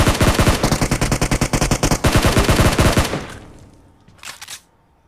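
Rapid automatic gunfire in a shooter video game fires at an enemy, with loud, closely spaced bursts for about three seconds, then a short pause and one final brief burst before it goes quiet.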